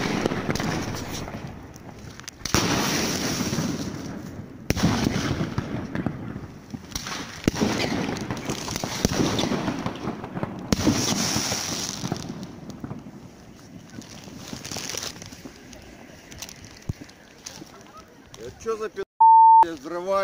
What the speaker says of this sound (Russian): пускают петарды, ребята